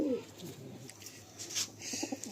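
A pigeon gives a few soft, low coos, quiet and close, against a faint background.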